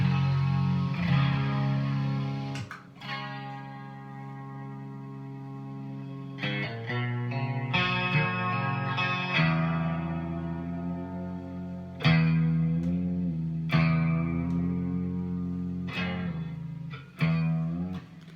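Electric guitar through a Blackstar amp loaded with chorus, echo and distortion effects, played as sustained chords and ringing notes with bends, each swelling and decaying in a roomy, reverberant wash.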